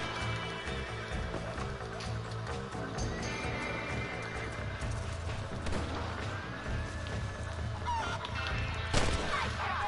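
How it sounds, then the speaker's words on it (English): Chickens squawking amid a chaotic scene in Red Dead Redemption, with flapping, thuds and clatter mixed into a busy, continuous game soundscape of moderate loudness. "Matando as galinhas, desgraça."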